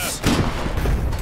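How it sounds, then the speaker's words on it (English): An artillery shell fires in the war game Foxhole: a heavy, broadband boom that swells early and rolls on as a rumbling tail, with voices chatting over the game sound. "Could you fire a shell for me, please?"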